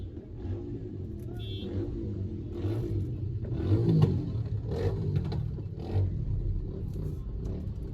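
Road traffic in Santa Cruz after rain, with a low continuous rumble of cars passing and one engine revving, heard at moderate distance under occasional voices.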